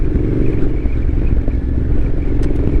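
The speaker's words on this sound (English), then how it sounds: "I love the engine for this bike, you know, off-road." A 2021 Yamaha Tenere 700 adventure motorcycle engine chugs steadily at low revs off-road, a dense continuous rumble that stays up close and even throughout.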